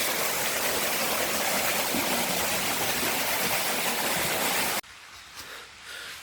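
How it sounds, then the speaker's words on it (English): Steady rushing roar of falling water fills most of the clip, then drops suddenly to a quieter distant wash of flowing water. "so there's the waterfall"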